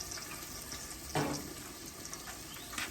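Battered catfish frying in hot oil, a steady soft sizzle and hiss throughout with a brief louder crackle near the middle.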